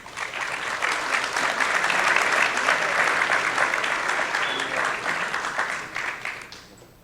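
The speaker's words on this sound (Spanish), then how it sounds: "Un voto de aplauso, por favor" Audience applause for a panel speaker at a business financing forum in Lima, a dense, steady burst of clapping from a seated crowd that holds for about seven seconds before tapering off at the end.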